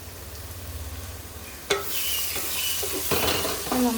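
Onions sautéing for a spicy fried chicken curry, a low steady sizzle that swells after a sharp spatula clank, followed by several scraping stirs and light utensil knocks against the pan.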